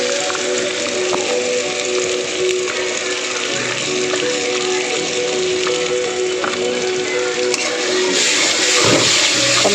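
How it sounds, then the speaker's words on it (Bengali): Tomato sauce hitting spices in hot oil, a steady broadband sizzle and bubbling that runs loud and continuous throughout, with a faint low hum underneath. "এবার টমেটো সসটা দিয়ে দেবো।"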